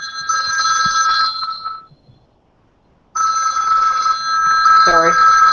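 A mobile phone ringtone rings loudly and close in a two-tone electronic pattern, stops for about a second, then rings again, with a person's voice briefly underneath near the end.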